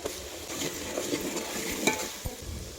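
Garlic, green chillies and whole spices such as cardamom, cloves, cinnamon and bay leaf frying in oil, a gentle sizzle with several scraping stirs and a couple of sharp utensil taps, close, no speech.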